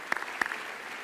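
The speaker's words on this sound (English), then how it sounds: "let's give them a big round of applause" Audience applause for the staff of a JFFS late-night event in 2014, a faint wash of scattered clapping with a couple of sharper claps standing out near the start.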